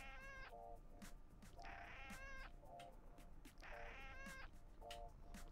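A cat in a video game meows several times in a row, bright, clear cries repeating at a regular pace over a quiet background, with no talking.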